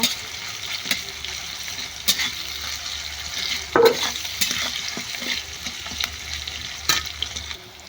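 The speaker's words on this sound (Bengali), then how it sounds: "দিয়ে এটাকে আবারও নাড়াচাড়া করব দিয়ে ভেজে নেব" Onion and chilli are stir-fried with salt in a pan for egg chow mein, with a soft sizzle running under several sharp scraping and stirring knocks spaced a second or so apart.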